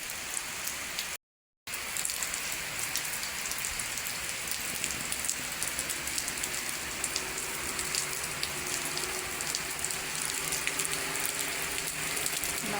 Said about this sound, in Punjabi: ਇੱਧਰ ਮੀਂਹ ਦੇਖੋ ਕਿੰਨਾ ਜ਼ਿਆਦਾ ਪੈ ਰਿਹਾ